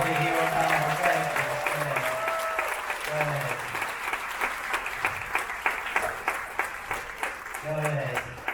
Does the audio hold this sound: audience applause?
yes